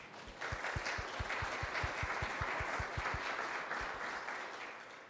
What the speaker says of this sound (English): Let's give Kelly a round of applause.